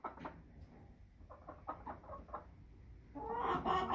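American Bresse chickens clucking inside their coop on a cloudy, drizzly day, a series of soft, close clucks and murmurs that build into a louder, busier squawking toward the end.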